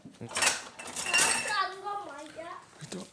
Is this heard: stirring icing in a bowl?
yes